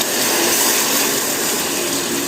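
Fennel-boiled water poured into rice for chicken biryani, a loud, steady gushing splash that lasts throughout with no pauses.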